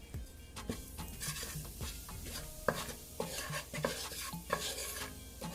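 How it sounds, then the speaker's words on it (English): Curry powder, about two teaspoons, frying in hot oil in a pan while a utensil stirs and scrapes, giving close, irregular clinks and scrapes over a soft, steady sizzle. "Yeah, 2 teaspoons of curry to burn in the oil."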